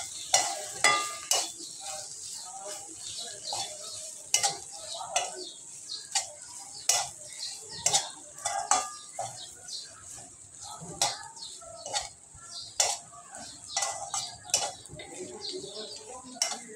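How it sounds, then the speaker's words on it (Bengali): Spoon stirring coriander powder and black pepper into a potato filling for pointed gourd dolma, giving a steady run of soft scraping clicks and taps against a bowl, close and fairly quiet, with no talking. "দিয়ে আমি এবার এগুলো সবগুলো মিশিয়ে নিচ্ছি একসাথে"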